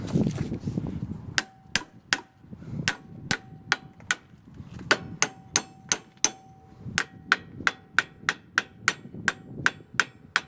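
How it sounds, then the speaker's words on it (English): Repeated metallic hammer strikes ring out on a rusty S13 coilover part, a steady series of sharp clanks with a bright ringing tone, close and loud, over faint background noise. "I'll get the hammer and knock it"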